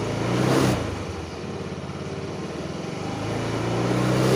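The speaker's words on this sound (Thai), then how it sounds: "เร่งเครื่องนิดนึงให้ล้อมันหมุน" A car engine is revved slightly and held at a raised, steady speed while a battery charger is connected. A soft, even hum rises a little toward the end, with no talk.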